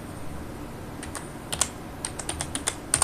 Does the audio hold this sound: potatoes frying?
no